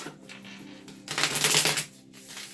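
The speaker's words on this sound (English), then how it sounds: "One more shuffle." A deck of tarot cards is riffled once, a short crisp flutter rising and ending abruptly against quiet room tone.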